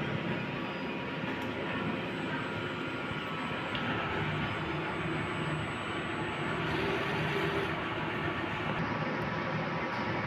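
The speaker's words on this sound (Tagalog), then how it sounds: "Head clean." Eco-solvent large-format printer running a print head clean cycle, a steady loud broadband mechanical whir and rush that holds constant throughout, close by with no talking.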